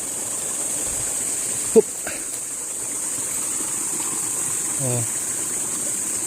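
Water from a stream and falls at Balete Eco-Park rushes in a constant, soft, broadband wash, with a couple of brief spoken exclamations over it.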